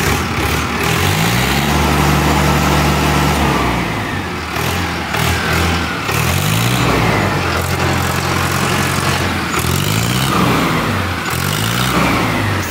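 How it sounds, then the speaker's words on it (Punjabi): A Mahindra Arjun tractor engine revs loud and close in repeated surges, rising and falling in pitch over a steady idle rumble, with no talk. "ਥੋੜ੍ਹੀ ਨਾ ਰੇਸ ਦੇ ਕੇ ਇਹਦੀ ਆਵਾਜ਼ ਚੈੱਕ ਕਰਾਇਓ"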